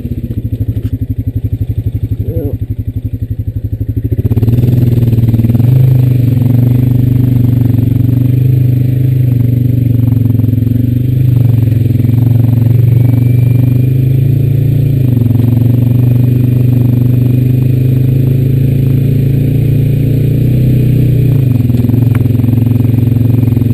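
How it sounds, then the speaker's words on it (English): A steady, loud Honda Rancher 420AT ATV engine drones at low revs, engine braking downhill, with rattling and clattering of the vehicle over rough ground. "letting the engine brake and do all the work"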